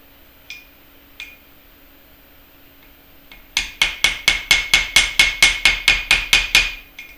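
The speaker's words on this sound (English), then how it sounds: "when you're holding a hammer, hold it like so" A hammer taps wire while a heart pendant is wrapped: two light taps, then a quick run of about a dozen sharp, evenly spaced metallic strikes, close and crisp.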